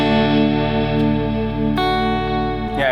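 Sustained chords from an Enya Inspire electric guitar shimmer through a chorus effect, thick and warbling, with a new strum midway and a swelling, wavering tail.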